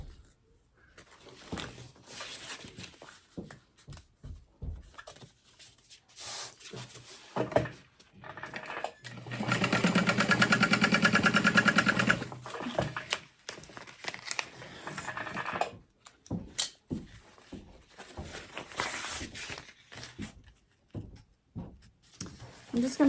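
Sewing machine stitching lining gusset pieces together for a chevron add-on: a steady mechanical run of about three seconds in the middle, framed by scattered close fabric-handling taps and rustles.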